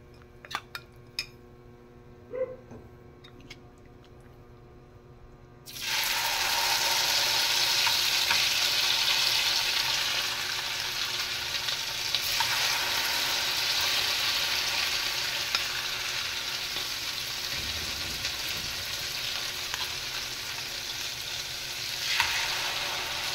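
Anchovy omelette (tortang dilis) frying in oil: a loud, steady sizzle bursts in after a few seconds of quiet clinks, then crackles on alone with shifting intensity and occasional faint utensil taps.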